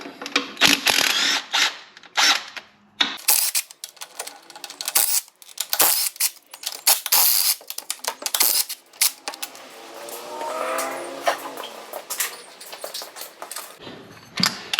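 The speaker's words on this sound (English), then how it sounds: "we're going to use the impact with the wobbly bit." An impact wrench on a wobble extension works on bolts during a Hemi engine swap into a Jeep LJ, firing in short, loud, rattling bursts with brief gaps and metallic clicks, close to the listener.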